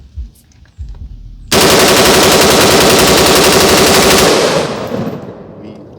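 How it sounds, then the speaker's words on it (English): Rifle magazine dump fired with a super safety trigger: a sustained burst of rapid, loud gunfire running about three seconds without pause, then cutting off into fading echo and quiet. "Let's start shooting. We are in super safe. Last mag dump of the day for you guys."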